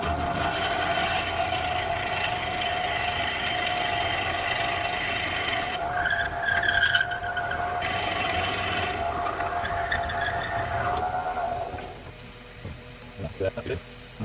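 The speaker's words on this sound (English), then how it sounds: "We'll get it turned around there and get started hollowing out the center." A wood lathe hollows out a live edge maple bowl, giving a steady continuous whir with scraping cut noise that runs loud throughout, shifts around the middle, and drops off near the end as the lathe slows; a voice speaks over it.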